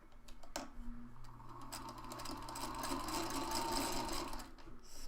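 Sewing machine stitching along the line of a pinned hexagon (hexie) quilt section, a steady close, continuous whir that runs for several seconds, with no talking.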